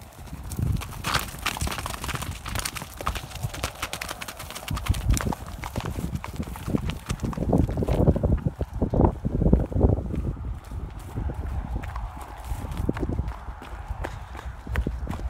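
Horses run in from a field, their hooves clip-clopping in a steady, busy rhythm over several seconds, fairly close, with wind noise and faint outdoor ambience around them.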